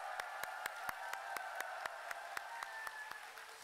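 Applause from an audience at a Shincheonji church Bible seminar in Masan comes through faintly as evenly spaced, rhythmic claps over a steady hiss and a hum.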